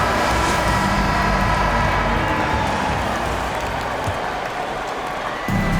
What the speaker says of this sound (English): Fans, please give a big round of applause for your Houston Squad